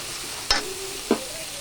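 Cashew paste with ground cumin, chilli and coriander powder being mixed in a pan for a katla fish curry, two brief spoon scrapes over a steady low background sizzle.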